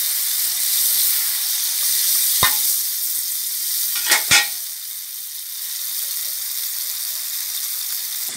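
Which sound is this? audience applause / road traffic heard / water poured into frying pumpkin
water poured into frying pumpkin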